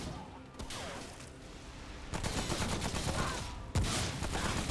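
Gunfire from shooting in the video game Remnant: From the Ashes during a boss fight, a steady stream of rapid shots with sharper, louder blasts near the middle and end, over a busy game soundscape.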